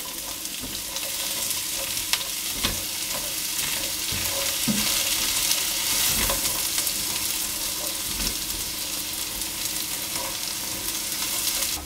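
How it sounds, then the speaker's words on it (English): Vegetables for a chicken pot pie sizzling and softening in a pan over moderate heat, a steady close frying hiss with occasional stirring scrapes and clinks, no voices. "I'm going to cook those until they've softened, and that might take 10 minutes or so"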